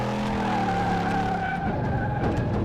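A modified El Camino in a video game skids and accelerates, with loud engine tones rising over sustained tire screech. The sound is close and continuous, with no talk.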